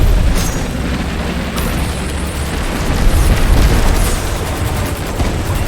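Shotgun blasts fired in a video game, a loud, dense run of booming, overlapping reports that fills the whole stretch with little pause.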